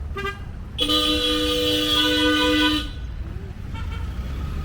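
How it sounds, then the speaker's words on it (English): A car horn blares in one long sustained honk, loud and steady, with a couple of short toots around it over street traffic noise in Shillong, Meghalaya, India. "Oh, some nice honking to set the mood"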